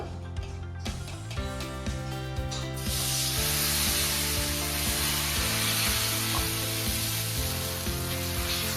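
Drumstick leaf dosa batter sizzles on a hot pan, a steady close hiss that swells after a few seconds and continues under background music.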